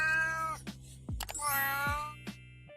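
A pet cat meows several times in rising and falling cries, close and clear, with brief clicks and rustles between calls.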